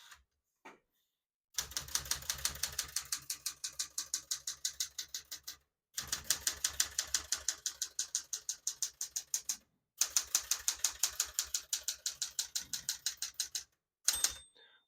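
A 1974 Smith-Corona Galaxie Twelve portable typewriter clacks through rapid bursts of keystrokes separated by brief pauses, ending with a short ring of the margin bell, close and with no talk.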